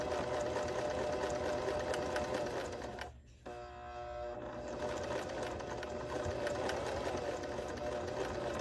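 A sewing machine stitches fabric along the edge of bias tape, whirring loud and steady in a close, continuous mechanical drone that pauses briefly once, then restarts, with no talking.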